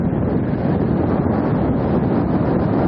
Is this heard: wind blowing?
yes